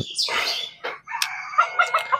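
A rooster crows loudly nearby, followed by a series of short clucks from chickens.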